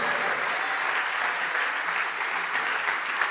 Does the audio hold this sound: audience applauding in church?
yes